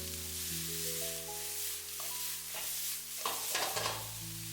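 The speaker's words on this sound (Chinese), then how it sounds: "快速翻炒均勻，把冬瓜炒出蒜香味" Winter melon stir-fried in a wok with scallion, ginger and garlic, a steady close sizzle under scraping spatula strokes and a few clanks near the end, with no talking.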